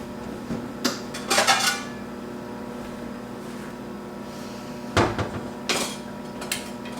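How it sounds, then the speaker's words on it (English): Utensil scraping and clinking against a dish as keto taco casserole is scooped onto a plate, a few short bursts of scraping and taps over a steady low background hum. "I'll scoop it up, put it on a plate"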